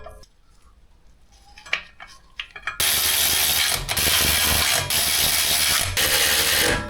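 A ratchet tightens the flywheel on a Land Rover 2.7L TDV6 engine. A few quiet metallic clicks come first, then loud, close, continuous ratcheting with short pauses.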